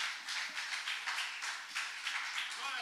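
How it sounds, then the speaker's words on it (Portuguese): Applause from a church congregation during a service, a steady wash of many hands clapping with a dense, unbroken texture and no talking. "E as palmas engrandecem o nome do Senhor Jesus Cristo."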